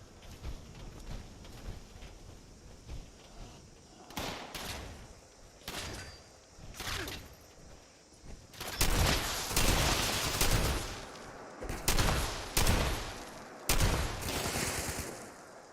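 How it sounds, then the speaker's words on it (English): Gunfire aimed at the player in Fallout 76, scattered sharp single shots at first, then dense loud bursts and volleys in quick succession, close and punchy. "Where's this dude shooting me from?"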